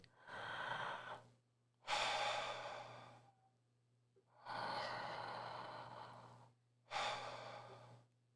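Slow, deep human breathing up close: four long breaths alternating inhale and exhale with short silent gaps, steady and unhurried, no talking.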